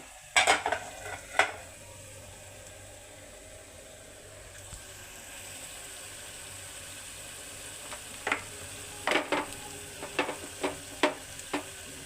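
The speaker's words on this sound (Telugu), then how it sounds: "నిమిషాల పాటు కొంచెం బ్రౌన్ కలర్ వచ్చేలా ఉల్లిపాయ వేయించుకోవాలి ఉల్లిపాయలు వేగిపోయినాయండి" Onions frying in a pan until lightly browned, a quiet steady sizzle with a few sharp clinks of a spoon against the pan early on and again in a cluster near the end.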